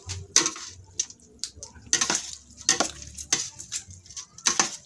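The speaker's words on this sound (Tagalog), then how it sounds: "Tapos haluin na po natin." Intermittent scraping and clinking of a utensil against a pan while stirring garlic and pig's head for kulao, in irregular strokes with quiet gaps between, close by.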